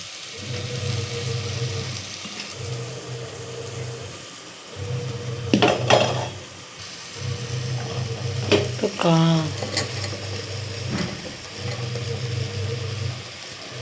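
Tomato and mushroom sauté in a pan for a homemade biryani, giving a steady close sizzle with spoon scrapes and clatter. A low humming drone pulses on and off underneath.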